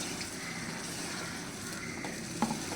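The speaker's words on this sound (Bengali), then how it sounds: "ভালো করে নেড়ে চেড়ে নেব। একটুখানি জল দিয়ে দেবো, মিক্সিতে রাখা জলটাই দেবো।" Masala fries in a pan with a splash of water, making a soft, even sizzle with light stirring and a brief clink near the end.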